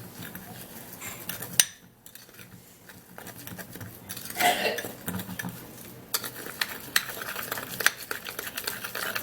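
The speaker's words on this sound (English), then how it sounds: "now I'm gonna be stirring this all up, mixing and mixing" A lemon and baking soda paste is stirred in a bowl, with scraping and clinking of a utensil against the bowl in irregular bursts, close and moderately loud, with a short pause partway through.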